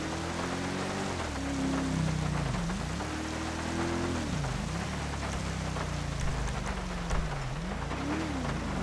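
Rain falls in Grand Theft Auto V as an unbroken hiss, while a vehicle engine underneath repeatedly rises and dips in pitch.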